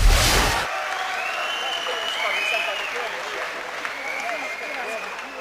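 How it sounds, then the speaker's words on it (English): A crowd applauds two world title boxers after a ring announcement, clapping that begins as a loud burst and then settles into a steady, fainter wash with voices mixed in. "let's have a round of applause for these world title fighters"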